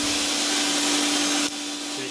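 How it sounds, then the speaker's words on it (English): A 1400 watt vacuum cleaner runs as a loud, steady broadband whoosh with a constant motor hum, then drops slightly in level partway through while continuing to run. "Say 1400 watt vacuum cleaner."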